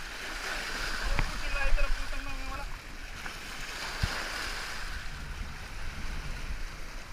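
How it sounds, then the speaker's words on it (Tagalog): Large ocean waves wash and churn nearby in a rough broadband rush off Corregidor, beside a small fishing boat, with a brief voice and some knocks partway through. "Laki ng alon."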